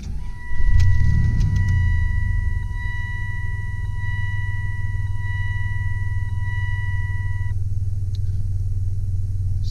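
Engine of a 2002 Dodge Ram 1500 high-top conversion van with 25,000 miles, idling steadily after a surge at startup, a low continuous rumble with a steady electronic chime tone running over it for several seconds.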